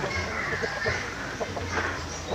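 Japanese shamo hens clucking close by, a series of short, rhythmic calls over a steady low hum, with brief human voice bits mixed in.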